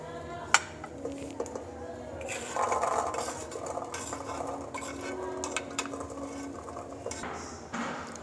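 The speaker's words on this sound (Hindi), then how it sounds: "अब एक बाउल ले लिया और उसमें चने डाल देने हैं" Chickpeas tipped into a bowl for a black chana chaat, a short clatter and scrape of dishware with a quick clink near the start, followed by steady rubbing and stirring noises close by, no voices.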